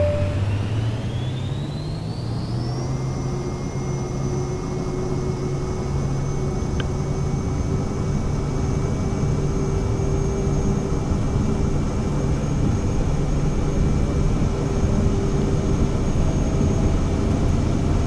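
Jet engine spooling up to full takeoff throttle in the video game Flight Simulator 2024, a rising whine that settles into a steady loud roar with a high tone held above it, continuous and free of voices.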